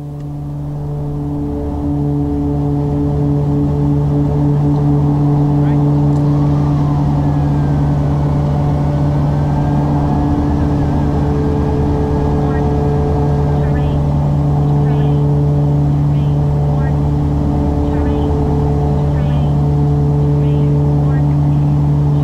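An aircraft engine drones loudly through the takeoff roll, rising quickly at the start, then holding a steady, humming roar with strong tonal layers and faint voices underneath.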